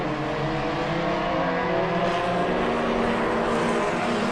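Race cars lapping the track at the 2012 Spokane Festival of Speed, a continuous dense engine roar of cars at a distance, rising and falling steadily as they run back underway after a yellow flag.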